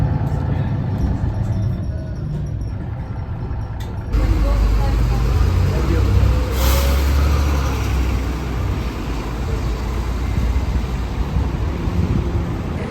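A city bus pulls into Heathrow Airport's central bus station and comes to a stop, its steady engine rumble and road noise rising partway through and continuing up close beneath speech.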